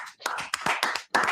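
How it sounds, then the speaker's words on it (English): A handful of people give feeble, sparse applause at the end of a debate, with a few uneven claps spread over a moment and no voices. "Shout out to feeble applause there at the end"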